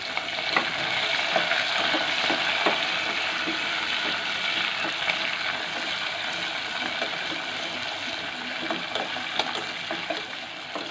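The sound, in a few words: shallots and green chilies sautéing in a pan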